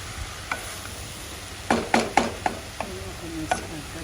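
Ridge gourd and onions being stirred in a pan, a steady sizzle underneath with several sharp scraping strokes of the spoon clustered near the middle, no talking.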